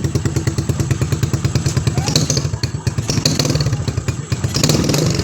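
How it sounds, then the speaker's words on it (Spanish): CG Tauro Racing 150cc standard motorcycle engine revving close up, a steady rapid pulsing beat with repeated throttle blips over about five seconds. "Aceléralo ahí, Diego."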